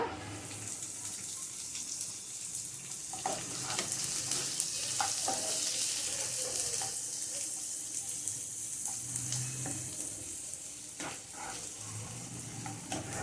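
Chopped onion frying in a pan, a steady hissing sizzle throughout with occasional soft stirring knocks and scrapes, moderately close.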